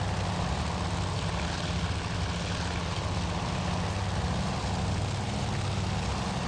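A propeller airplane engine in the naval combat game Task Force Admiral drones steadily and loudly, a continuous low, throbbing roar that holds unchanged throughout with no voices.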